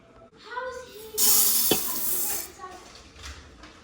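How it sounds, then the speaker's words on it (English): Jasmine rice being rinsed under running water, a tap gushing loudly for about a second and a half, with quieter splashing and clinks around it and a voice talking before and after. "I'm just getting my rice rinsed. It's really cloudy. I'm gonna try to wash it until it's more clear."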